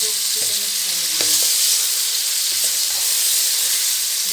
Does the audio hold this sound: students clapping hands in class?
no